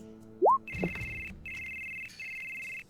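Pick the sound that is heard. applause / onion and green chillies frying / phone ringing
phone ringing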